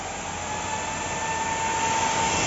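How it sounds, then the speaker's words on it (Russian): Cooling fan from a crypto mining rig, fitted to a Stels Kapitan, spinning up with a loud, steady whooshing whir and a faint tonal whine that swells slightly in intensity. "И сейчас поставили вентилятор от Майнинга."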